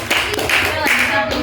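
Group applause in a classroom counseling session, a brisk burst of hand clapping from several people, loud and close, with speech mixed in.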